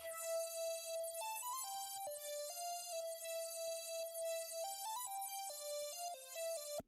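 Synthetic-style lead melody from the Oracle preset in FL Studio 21, a bright, buzzy synth line stepping through sustained notes in a steady repeating phrase, alone and clean.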